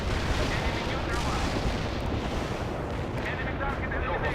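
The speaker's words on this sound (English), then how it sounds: "Anti-tank strike is inbound." A loud, continuous rumble of anti-tank strike explosions fills the air in the World in Conflict video game, heavy booms merging into one dense, rolling roar throughout.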